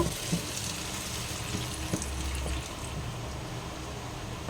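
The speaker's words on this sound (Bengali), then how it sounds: "আমি এই জলটাই দিলাম যেটা চিংড়ি মাছ ম্যারিনেট করা ছিল" Water that held marinating prawns is poured into a pot of boiled potatoes and brought to a simmer, giving a steady, close bubbling sizzle with faint stirring knocks throughout.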